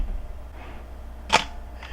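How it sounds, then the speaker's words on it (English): A Minolta XK camera's shutter release fires once with a single sharp mechanical click, near and isolated, against a quiet background hum. "now I can push the shutter release"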